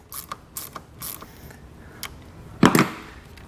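Ratchet wrench tightening a nut on a battery cable stud of a 2018 Chevrolet, a few short clicking pulls followed by a louder metallic clatter, close by with no talk.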